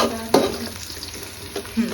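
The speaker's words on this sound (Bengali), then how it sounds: "পেঁয়াজ ভাজা হয়ে গেছে এবার আদা রসুন দিয়ে দিই" Onions fry in a pan and give a close, steady sizzle, with a few louder scraping bursts as they are stirred.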